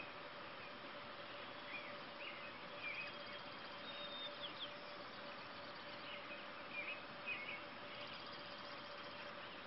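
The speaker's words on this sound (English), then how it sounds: "You can hear the birds singing" Birds chirp and tweet faintly over a steady low rumble of a running creek in the Rocky Mountains, an outdoor morning scene with scattered calls.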